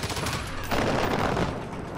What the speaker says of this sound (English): why are they firing up the road?